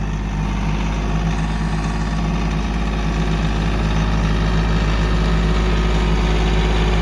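A heavy tractor engine rumbles steadily at close range while skidding logs, a loud continuous low drone that holds unchanged throughout with no voices.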